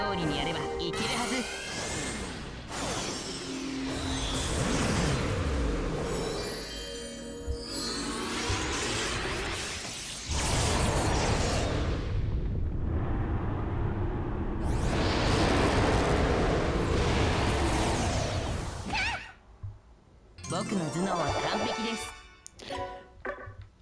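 Terra Wind attack animation in the PS4 game Disgaea 5: Alliance of Vengeance, a dense stretch of roaring wind, whooshes, crashes and explosive blasts, continuous and loud, with short dips to near silence.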